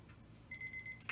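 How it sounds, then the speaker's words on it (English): A kitchen timer alarm rings faintly in a quiet room, a thin steady electronic beep pulsing a few times over low background noise. "there's our timer"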